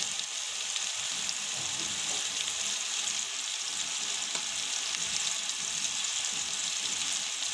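Spice powders hitting hot oil for a coral fish curry, producing a loud, dense, steady sizzle that hisses evenly throughout at close range, with no talking.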